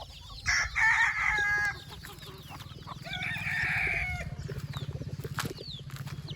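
Country (nati) chickens cluck nearby while a rooster crows twice, with soft scratching and fluttering in the background.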